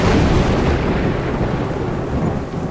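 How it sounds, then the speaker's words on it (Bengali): Thunder strike in a stormy night scene, a loud, dense rumbling crash with rain noise that fills the whole moment without any voices. "ঠিক তখনই একটা বিকট শব্দে জানালার বাইরে একটা বাজ পড়ল"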